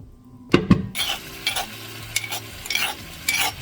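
Curry paste frying in oil in a pan for chicken soup, loud close sizzle with a couple of sharp clanks at the start, then repeated stirring scrapes.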